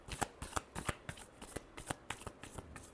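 A deck of tarot cards is riffled and shuffled by hand in quick, even bursts of crisp flapping, about a dozen close strokes over three seconds, with no voice.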